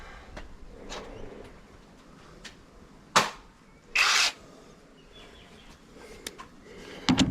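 A pneumatic rattle gun with a 24mm socket spins off the top nut of a VZ front strut during a strut top bush and bearing change. Two short, loud whirring bursts stand out against a quiet workshop background.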